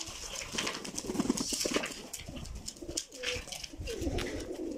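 Soft pigeon cooing repeats in low throaty bursts, with some rustling and faint background noise, fairly close.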